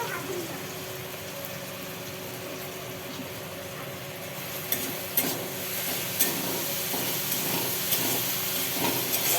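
Ginger garlic paste frying and being stirred for a spicy crab curry, a steady close sizzle and hiss with occasional scraping clicks of the spoon growing busier partway through.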